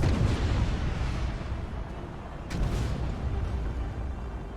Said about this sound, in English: Oh yeah, the glow of that explosion.